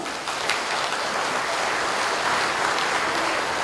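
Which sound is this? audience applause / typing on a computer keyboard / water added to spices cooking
audience applause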